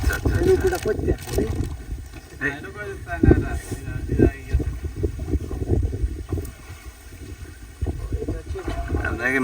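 A ferry boat approaching on the river at a Padma river sandbank, its low engine rumble and water movement steady under gusty wind noise, while people talk close by throughout.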